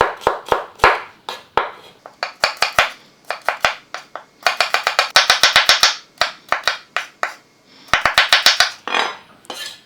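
Rapid, steady pounding of Thai red curry paste in a mortar, many sharp knocks in quick bursts with brief pauses, close and loud, no voices.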